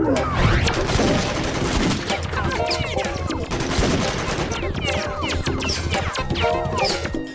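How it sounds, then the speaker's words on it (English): Three gunmen firing in a frenzied film shootout: dense, continuous volleys of rapid gunshots and crashing impacts fill the whole stretch, loud and close, with voices faintly mixed underneath. "the three gunmen opened fire in a frenzy"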